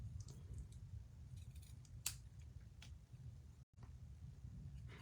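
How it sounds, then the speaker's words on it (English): Scissors snip through ribbon while a handmade card is made, with a few quiet, separate cuts close by, including one sharp clear snip, against a low steady room hum and no talk. "All right, where's my scissors?"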